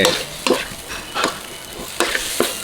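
Large fresh shrimp are stir-fried with curry powder in a hot pan. A loud, close sizzle is broken by rhythmic scraping strokes of the spatula, about four or five in quick succession.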